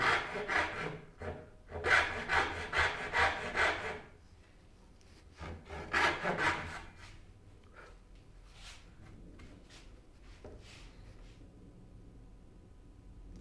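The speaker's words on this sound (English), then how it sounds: "We are cutting pins for a dovetail box" Hand saw cutting dovetail pins in a large pine box: a steady run of rasping back-and-forth strokes for about four seconds, a shorter burst after a pause, then quieter scattered scrapes and taps, close and clear.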